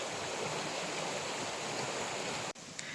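A swollen stream after a night of heavy rain rushes in a loud, steady broadband roar close by, unbroken for most of the stretch before a sudden brief dip near the end.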